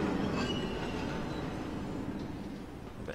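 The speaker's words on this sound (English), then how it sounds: "I'm going to apply handbrake and get the train stopped" A train in Train Simulator 2016 brakes to a stop on the Maerdy line, with a steady rumble of rolling wheels, faint squeals and a slowly fading drone as it slows.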